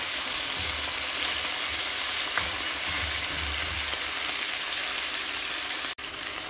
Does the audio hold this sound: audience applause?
no